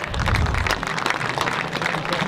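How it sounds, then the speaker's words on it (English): Crowd applause rolls through the stands at a high school football game, a steady dense clapping from both sides that fills the whole short stretch at close range. "getting a good round of applause from both sides"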